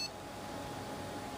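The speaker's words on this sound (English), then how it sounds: "and system beep." An NEC Versa 6030H laptop gives a single short, high system beep at power-on, followed by a low, steady hum of the running machine.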